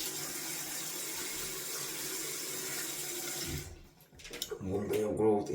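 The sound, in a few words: cold water running from a tap while shaving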